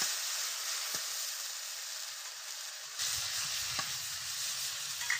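Spice paste sizzles as it is stirred into fried potatoes in a pan for rohu fish curry. A steady, close hiss of frying runs throughout, with a few scraping stir strokes and a louder, denser crackle partway through. No talking.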